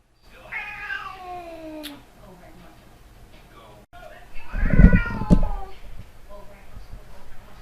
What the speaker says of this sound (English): Hi, kitty. You're nice.